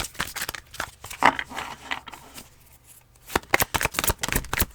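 Tarot cards being shuffled by hand in quick crisp riffles and flutters, close and fairly quiet, with short pauses between bursts.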